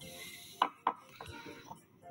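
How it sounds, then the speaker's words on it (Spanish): A kitchen knife slicing bell pepper into very thin julienne strips on a cutting board, two sharp distinct chops followed by a few softer cuts, close and moderately loud with faint background noise. "El pimiento vamos a preparar en juliana fina"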